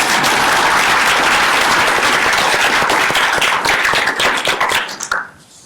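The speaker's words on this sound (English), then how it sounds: "So can we please give them a round of applause?" An audience at a business conference on responsible AI claps loudly and continuously, a dense crowd of hand claps that thins out and fades away at the end.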